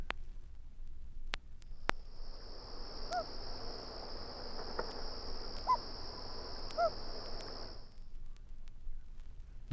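A common loon's hoot call, played from a vinyl nature recording. A steady, sustained tonal note holds for about eight seconds over a low background hiss, with a few faint clicks from the record surface.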